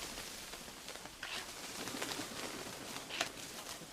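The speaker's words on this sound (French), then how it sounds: "je vais me rapprocher des oiseaux. J'espère que vous allez entendre le vacarme." A flock of birds near a pond in India calls in scattered bursts through heavy broadband background noise, the calls mid-distance and partly masked.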